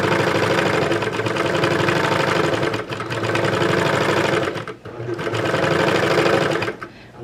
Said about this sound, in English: This is a great serger, even though it's like very old.